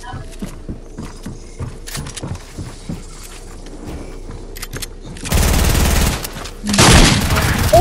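Rapid-fire weapon gunfire in a Fortnite match comes as a quick run of evenly spaced shots, followed by two loud, dense bursts of blasts near the end, with game sounds and some talk mixed in.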